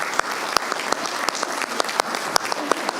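Audience applause for two award-winning teachers at a county commission meeting, a steady mid-level wash of clapping with sharper individual claps standing out, continuing throughout without speech.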